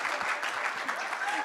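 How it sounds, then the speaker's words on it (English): Audience applause follows a guide dog class graduation, a steady wash of clapping from many hands, with a voice faintly audible beneath it. "So round of applause to them."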